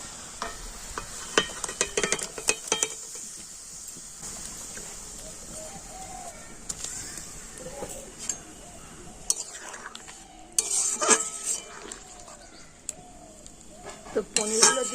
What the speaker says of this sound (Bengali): দেখুন ঝোলটা কিন্তু ফুটে গেছে আর এখন আমি পনিরগুলো দিয়ে দেবো